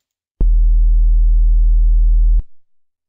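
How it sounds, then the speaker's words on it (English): A steady 40 Hz sine tone generated in Adobe Audition: a loud, pure, deep hum that starts abruptly, holds for about two seconds and cuts off cleanly, with nothing else heard. "So now we have a 40 Hz sine wave,"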